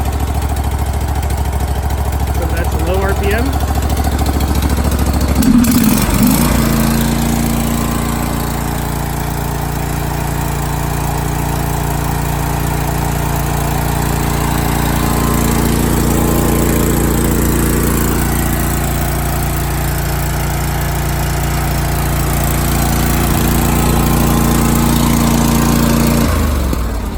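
A Briggs & Stratton Vanguard engine in a John Deere 318 garden tractor idles at low RPM, a steady, loud, close drone that holds throughout with a brief clunk and rise in pitch partway through, with no talking.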